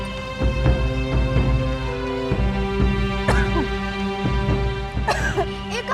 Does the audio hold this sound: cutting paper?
no